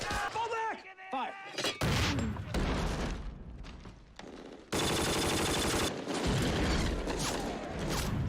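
Heavy WWII battle gunfire from a Band of Brothers TV episode, with machine gun bursts, rifle shots and booms erupting loudly amid shouted voices, swelling into a dense sustained barrage.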